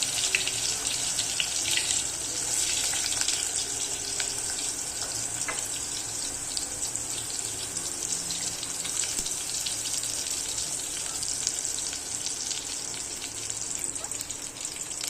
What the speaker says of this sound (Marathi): तेलामध्ये तळून घ्यायचे पहिले हे पाहते सोयाबीन तळून घ्यायचे